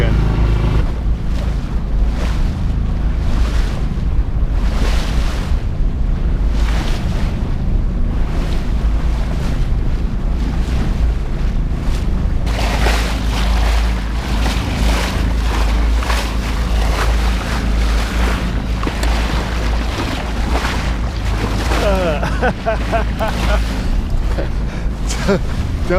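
A sailboat pitches through rough water crossing the Columbia River Bar, heavy wind rumble and rushing, slapping waves fill the whole stretch loudly and continuously, with a voice speaking over it.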